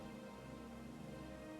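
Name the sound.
heavy rain in the video game Guild Wars 1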